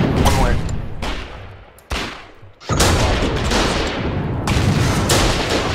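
Heavy gunfire in the WWII-style war game Foxhole: dense bursts of shots in several loud volleys separated by brief lulls, close and continuous, with no speech over them.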